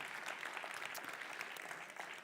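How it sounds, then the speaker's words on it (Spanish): A church congregation claps to welcome first-time visitors, a continuous fairly faint roomful of applause without speech. "lo recibimos con un fuerte aplauso"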